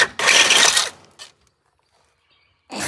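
A ratchet clicks rapidly in a short, loud burst up close while loosening torsion bar bolts on a 1959 Dodge Coronet frame, followed by a brief second click and then quiet.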